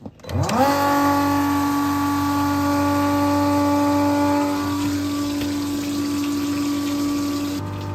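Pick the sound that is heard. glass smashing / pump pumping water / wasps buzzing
pump pumping water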